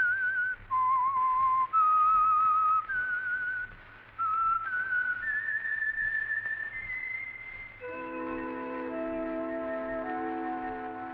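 A lone whistler carries a simple melody in clear sustained notes, the theme of the 1951 radio program The Whistler, then a soft chord of accompanying tones swells in beneath it.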